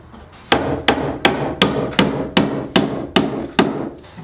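Hammer driving nails into a wooden workbench top, nine sharp, loud, evenly spaced blows close by, each ringing out briefly before the next strike.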